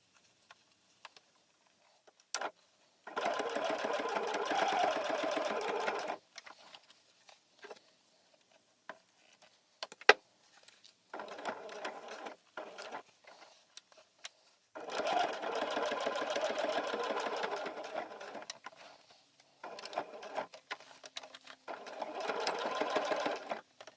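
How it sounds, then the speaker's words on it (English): A sewing machine stitches Velcro onto a small doll T-shirt in two long steady bursts of rapid needle chatter, separated by quiet gaps filled with light handling clicks and taps. "you'll attach the Velcro to this side. So when you close it, it'll match up perfectly. So I'm going to go ahead and sew that on."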